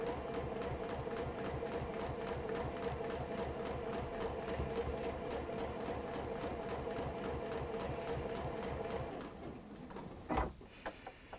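A sewing machine fitted with an open toe foot stitches along a marked line, its needle running in a steady rapid rhythm close by for about nine seconds before it stops with a brief clunk.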